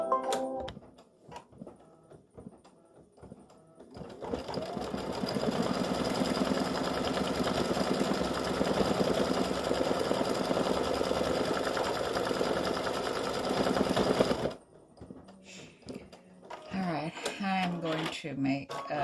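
An embroidery machine stitches a St Patrick's gnome design, a steady fast mechanical whirr and tapping that runs for about ten seconds at moderate loudness, with someone talking before and after it.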